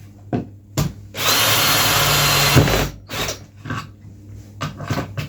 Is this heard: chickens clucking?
no